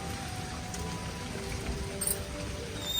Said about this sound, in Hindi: बारिश हो रही है बहुत ज़्यादा